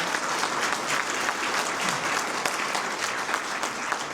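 Audience applause at a legislative update breakfast in St. Augustine, honoring the city commissioner and city manager: steady, dense clapping from a sizable crowd, sustained and even throughout.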